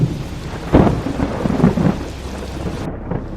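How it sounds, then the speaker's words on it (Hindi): Thunder rumbles with a sharp crack partway through, over steady rain, then the sound cuts off abruptly near the end. "बारिश होने लगी, बिजली कड़कने लगी।"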